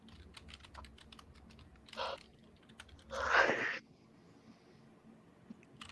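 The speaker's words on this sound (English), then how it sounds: "Just typing." Fingers type on a computer keyboard, producing scattered quiet key taps with two brief louder clattering bursts, and no one speaks.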